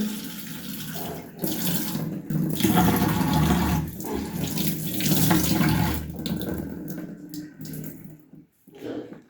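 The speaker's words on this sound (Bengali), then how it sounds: "এগুলো ধুয়ে একদম মুছে ফ্রেশ করে নিব" Tap water runs steadily into a kitchen sink while spice containers for chili, oil and ground cumin are washed, with splashing and clatter, the flow surging and pausing near the end.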